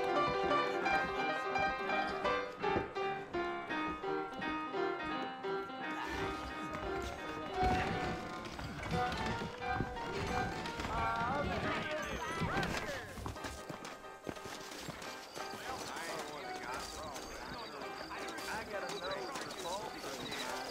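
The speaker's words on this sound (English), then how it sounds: "I got the horses saddled up and ready out front." Horses' hooves clip-clopping on a trail in the Red Dead Redemption video game on Xbox One, running under steady game music and dialogue for the whole stretch, with occasional thumps.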